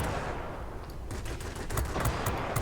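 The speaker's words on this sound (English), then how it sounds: "23mm cannons instead of 20mm cannons." Twin 23mm cannons on a Yak fighter firing in the World of Warplanes air-combat game, rapid staccato bursts that crackle over steady engine drone and grow denser toward the end.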